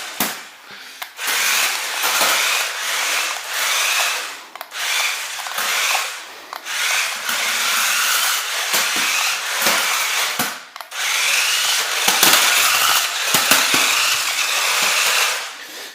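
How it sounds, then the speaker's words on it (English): Wheels of an MKB 5588 RC stunt car spin hard against the surface in repeated bursts, a close, loud whirring grind that stops and restarts several times as the car changes direction, with no voices. "if you change direction quickly, it just spins the wheels around to get it to turn quicker"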